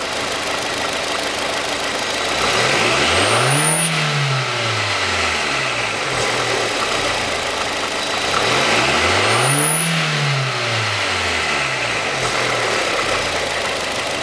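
A Hyundai Accent 1.5 engine, misfiring and knocking, rises and falls twice through uneven revs under load, with a rough pulsing undertone between the swells.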